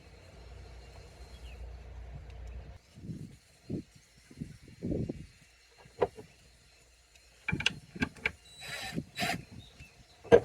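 A tiller bolt on damaged SeaStar hydraulic boat steering is turned with a tool, making bursts of metallic ratcheting clicks and scrapes, close and fairly faint, with quiet pauses between and a short low hum at the start.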